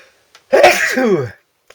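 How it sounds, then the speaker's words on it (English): A single loud, close sneeze bursts out, a sharp breathy onset followed by a voiced, drawn-out tail lasting almost a second, with quiet before and after. "And I'm going to sneeze."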